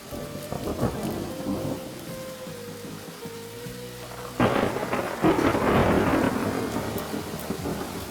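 A cartoon thunderstorm over the sea: steady rain hisses beneath a low tone, then a loud thunder crash breaks at midpoint and rumbles on with heavy rain and wind, no voices.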